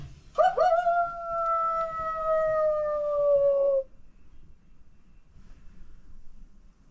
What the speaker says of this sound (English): It says coyote hunting call. Estrus chirps. Mating call.